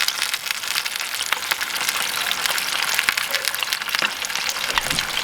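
Steak sears in clarified butter in a small pan, a bright, steady sizzle and crackle with scattered sharp pops throughout, close and continuous without talk.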